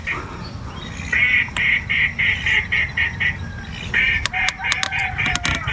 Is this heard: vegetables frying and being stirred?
no